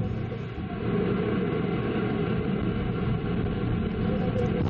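An Ariane 5 ECA rocket's Vulcain main engine ignites at launch, heard as a dense, steady low rumble that fills the air at an even loudness throughout.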